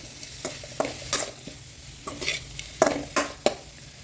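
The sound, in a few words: stirring soaked poha in a pan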